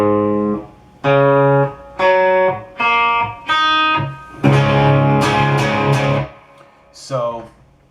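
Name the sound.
electric guitar riff, half step down drop tuning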